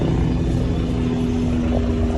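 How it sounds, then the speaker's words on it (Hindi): Helicopter flying overhead above the Baltal market area, a steady loud drone and rotor hum that fills the whole clip without change, with no talk over it. "Helicopter is flying above Badal market."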